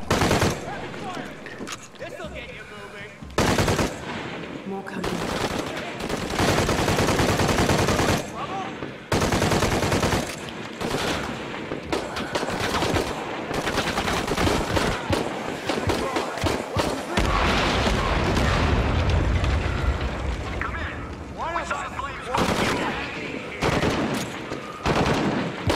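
Rapid bursts of gunfire from the Shadow of the Tomb Raider game on PS4, loud and dense with brief gaps, mixed with game sounds and some voice.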